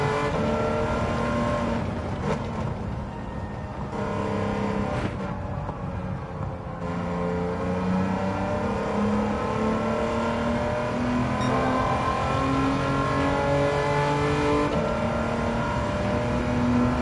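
A DeLorean with an LS engine swap drives in Gran Turismo 7. The loud, continuous engine note climbs and falls through gear changes as the car accelerates, with brief dips between shifts and no talk.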